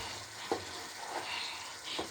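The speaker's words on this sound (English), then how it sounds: "It's time for another stir." Stew being stirred in a cooking pot: soft scrapes and knocks of the spoon over a quiet, steady bubbling sizzle, fairly faint and close.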